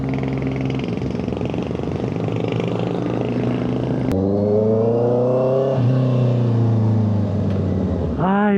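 A 2025 Honda CBR650R motorcycle fitted with an SC Project exhaust idles, then revs hard and loud up close. Rising and falling engine tones swell several times, ending in a sharp blip of the throttle.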